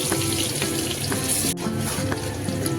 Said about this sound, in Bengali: পেঁয়াজটা ভাজা ভাজা হয়ে এসছে